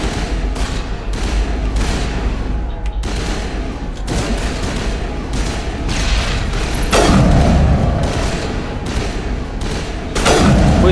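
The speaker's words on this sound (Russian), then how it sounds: "Винтовка слабая." Rifle gunfire in the Mass Effect Legendary Edition video game: a rapid run of loud, sharp shots, repeated in bursts with heavier booming reports near the end, with no pauses of silence.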